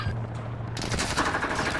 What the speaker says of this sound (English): why are you shooting me like that?